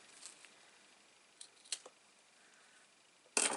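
Scissors picked up and handled at a craft table while making a mini album with ribbon, giving a few faint clicks and rustles, then a sharp louder snip-like clatter near the end; no talking.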